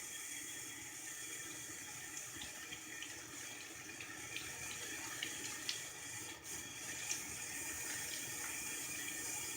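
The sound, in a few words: running tap water rinsing off a face mask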